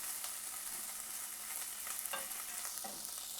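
Ginger garlic paste sizzling in a heavy-bottomed non-stick pan, a soft, even hiss with scattered small pops and stirring scrapes; no voices.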